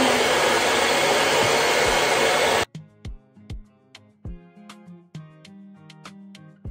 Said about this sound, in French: Et celle-ci sèche avec un sèche-cheveux en froid.